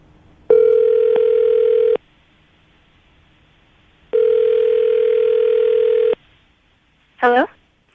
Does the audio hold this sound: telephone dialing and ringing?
yes